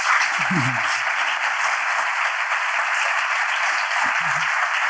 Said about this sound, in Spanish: ese primer aplauso con el que vamos a recibirla